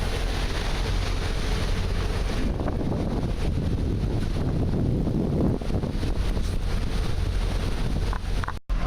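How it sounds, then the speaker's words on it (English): A 2009 Leopard 47 power catamaran runs underway in Port Everglades, giving a constant loud rush of wind and water with heavy wind buffeting on the microphone and no talking. "Here we are underway in Port Everglades."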